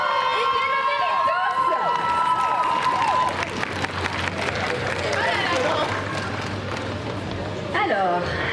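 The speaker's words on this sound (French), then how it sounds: "je veux d'abord un tonnerre d'applaudissements pour tous les participants du concours" A convention stage crowd applauding and cheering for cosplay contest participants, a dense wash of clapping and shouts under a loud voice and music at the start, fading slightly toward the end.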